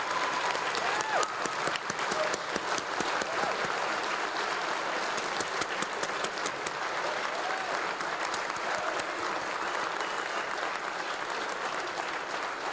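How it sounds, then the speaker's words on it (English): Sustained applause from an audience honoring award nominees at a musical event, dense steady clapping filling the whole stretch at an even level with no pauses. "Let's share our applause with them."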